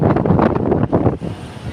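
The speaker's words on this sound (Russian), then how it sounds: "Такой сильный ветер поднялся." A strong, steady gust of wind buffets the microphone outdoors, a loud, continuous roaring rush that swells and dips slightly with no voices over it.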